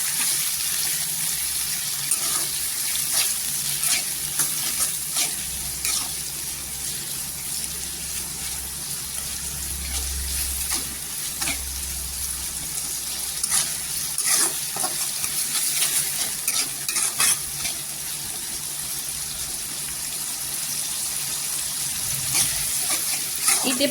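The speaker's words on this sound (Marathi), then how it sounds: "इथे आहे ना, त्या टोमॅटोवर मीठ टाकायचं. मीठ टाकल्याने आहे ना, सॉफ्ट होतो टोमॅटो. छान असं तेलावर परतून घ्यायचा." Tomatoes sprinkled with salt sauté in oil in a home kitchen pan, giving a continuous soft sizzle with occasional stirring scrapes and clatters, close and steady.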